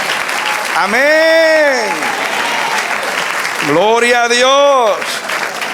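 A church congregation applauds through the stretch, a steady, loud wash of clapping while a preacher calls out praise in Spanish over it, his voice rising in two sung-out phrases.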